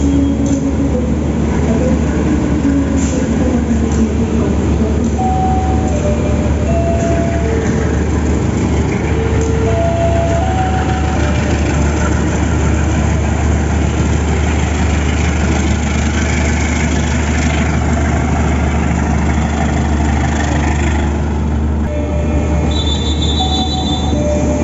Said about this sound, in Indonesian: Ini lokomotifnya udah diputus dan akan berpindah posisi.